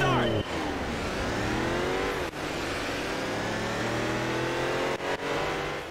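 A race car engine in Gran Turismo PSP on the PSP revs steadily and loudly through rising gear sweeps, dipping briefly at each shift across the run.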